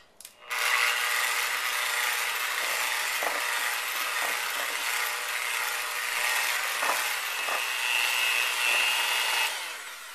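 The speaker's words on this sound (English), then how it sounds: "I'm going to take my electric beater, and I'm going to beat this for about 3 minutes until it's mixed really well" Electric hand beater whirring through cinnamon bread batter in a bowl, a steady high-pitched motor drone with faint scraping ticks as the beaters knock the bowl, running continuously after a short start-up and stopping near the end.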